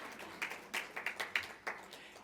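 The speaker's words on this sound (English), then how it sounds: "Keep clapping, because now you can clap for everybody." Scattered audience clapping at a charity anniversary breakfast, a handful of separate claps spaced irregularly and fairly faint, with no steady applause building.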